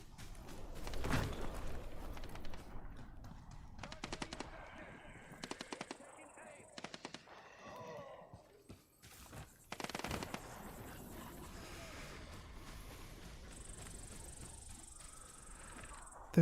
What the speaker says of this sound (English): Hear gunshots.